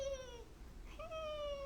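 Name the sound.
voice imitating a wheezing chest sound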